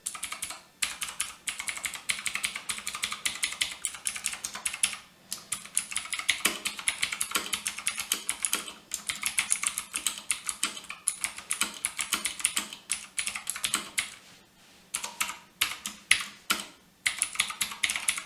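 Rapid clicky typing on an Ajazz K620T mechanical keyboard with MX Blue switches, sharp high-pitched key presses in quick uneven bursts with a few short pauses, close and fairly loud.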